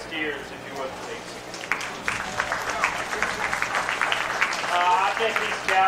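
A county fair beef show crowd claps for the heavyweight steer class, with scattered, uneven applause rising in the middle while voices keep talking over it.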